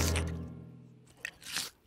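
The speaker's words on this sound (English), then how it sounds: "That sort of scrunching, munching noise." Crunching, munching bites of a juicy rain pear in a cartoon setting, several short crisp crunches with music fading behind, ending in a louder burst of chewing.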